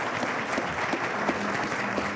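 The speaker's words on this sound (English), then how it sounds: "let's give a round of applause now and welcome Kim Davidson" An audience at a business talk breaks into applause to welcome speaker Kim Davidson, a dense, steady roar of many hands clapping, close and full for about two seconds.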